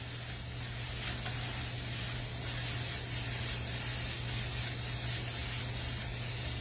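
Flattened sausage patties fry in a skillet with a steady, dense sizzle and a low constant hum beneath, close and unbroken, with no talk.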